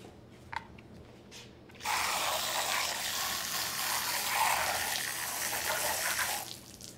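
Running water rinsing the rollers of a Kärcher FC5 cordless floor cleaner, a steady close splashing gush under a tap that starts after a few faint clicks and continues for several seconds before tapering off, with no talking.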